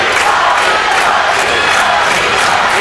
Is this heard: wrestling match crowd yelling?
yes